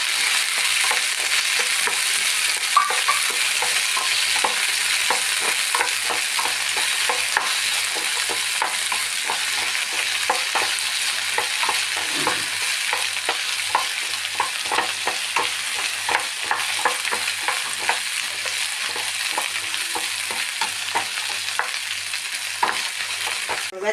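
Finely chopped okra fries for a Kerala thoran in a pan, a constant dense sizzle running the whole time with regular light scraping and stirring strokes on top, close and steady, no talking.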